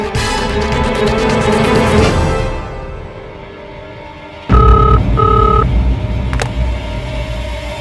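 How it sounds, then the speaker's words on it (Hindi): A phone being dialed for a call home: a few tonal dial beeps with brief gaps over steady background rumble and traffic-like noise. "घर पे करता हूँ फोन"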